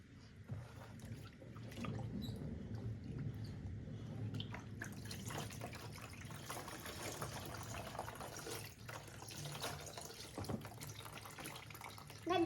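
Rainwater from a harvesting tank runs over a screen used for making paper cards, a steady trickling rinse with drips and splashes that builds and shifts as the water drains quickly away.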